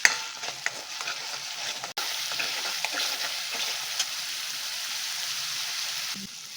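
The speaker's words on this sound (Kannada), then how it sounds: "ಅರಿಶಿನ ಹಾಕ್ಕೊಂಡು ಈ ಮಸಾಲೆನ ಫ್ರೈ ಮಾಡ್ಕೊಳ್ಳೋಣ" Masala with turmeric sizzles in oil for an Andhra-style fish curry, a steady close frying hiss with frequent spoon stirring and scraping against the pan.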